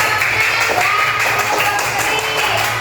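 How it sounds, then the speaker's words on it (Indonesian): Students in a classroom clap for a group that has just presented, a brief close, dense patter of hands lasting a few seconds without speech. "tepuk tangan untuk kelompoknya"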